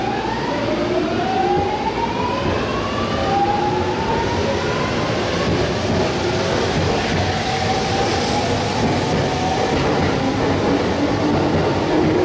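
A commuter train at platform 1 of Toride station, a local stopping at every station, rumbles and squeals steadily with rising wheel and motor whine throughout, loud and close with no talk over it.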